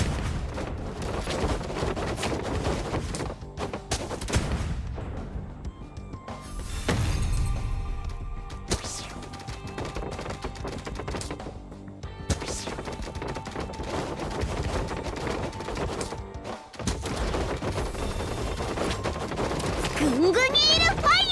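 Rapid bursts of gunfire, explosions and shattering crashes from the Gungunil fire attack in the game Honkai, loud and dense throughout, layered over game music while a voice talks.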